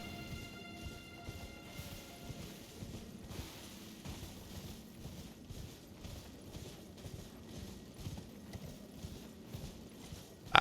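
Horse hooves clip-clopping in a steady galloping rhythm in the video game Elden Ring, moderately loud and continuous over a background of game ambience and music.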